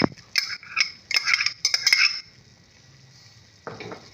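A metal spoon clinks and scrapes against a karahi while garlic-ginger paste is stirred into browned beef for a Peshawari charsi karahi. There are quick bursts of clatter for about two seconds, a pause, then another scrape near the end.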